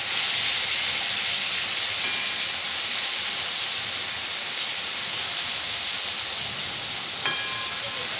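Pointed gourd (potol) slices fry in a pan, giving a steady, even hiss and sizzle close by with no talking, broken near the end by a faint clink.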